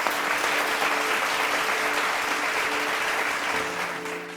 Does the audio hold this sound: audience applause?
yes